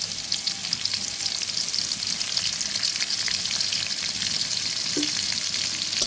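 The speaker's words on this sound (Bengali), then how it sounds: "তেলটা গরম হয়ে গেছে, আমি এখন দিয়ে দিচ্ছি পেঁয়াজ কুচি আর রসুন ছাঁচা" Chopped onion and crushed garlic frying in hot oil for a Bengali kochu shak and hilsa fish dish, a steady close crackling sizzle that runs evenly throughout without talk.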